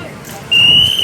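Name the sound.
whistle blown as a signal during army bridge work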